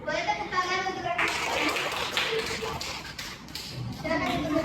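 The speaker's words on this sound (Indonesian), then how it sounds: "Boleh tepuk tangan untuk rekan." Classmates clap for a student in a school classroom, a dense patter of hand claps running steadily under a voice and shuffling.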